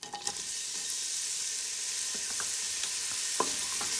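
Onions sizzle steadily in about a tablespoon of coconut oil in a pot while cooking for roasted lamb cook up rice, a close, even hiss broken by a few sharp pops and stirring clicks, with no talking.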